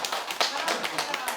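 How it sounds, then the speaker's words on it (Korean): A short burst of clapping from a small group, quick uneven claps with a couple of louder hits, sounding close and fairly light. "박수 한번 주세요."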